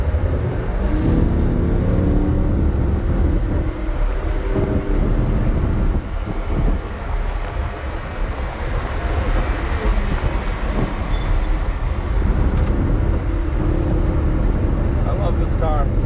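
A Lamborghini Huracan with an aftermarket exhaust on a race track at a track day, a continuous loud roaring engine and exhaust drone that rises and falls as one Lamborghini passes another, with a voice over it.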